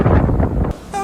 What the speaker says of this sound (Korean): 바람이 엄청 부네요.